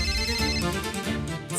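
A phone ringtone playing, a bright melodic tune with sustained tones that rings continuously and loudly for a moment, close by.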